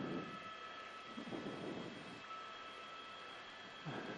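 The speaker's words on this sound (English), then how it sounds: "That's going to be the law enforcement helicopter that we've been talking about." A sheriff's law enforcement helicopter flies overhead during a car chase in Long Beach, California, giving a steady, droning engine and rotor rumble that holds at a constant moderate level throughout, with no voices.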